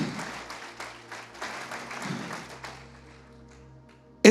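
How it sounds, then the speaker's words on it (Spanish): A church congregation applauds, a patter of claps that builds briefly then thins and fades out over a few seconds, ending with a sudden loud sound at the very end. "Denle un aplauso al Señor, aleluya."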